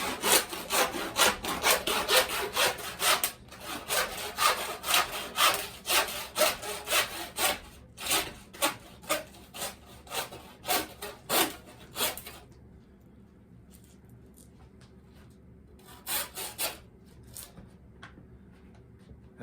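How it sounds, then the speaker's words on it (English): A handsaw cuts through a deer leg in fast, regular back-and-forth strokes, rasping and close. After about twelve seconds it goes quiet, and a couple of short strokes follow near the end. "you take a handsaw, you all, and cut this off"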